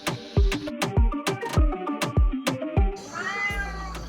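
A cat meows repeatedly up close, about eight loud, sharp meows in a quick, regular series, followed by a brief rustle at the end.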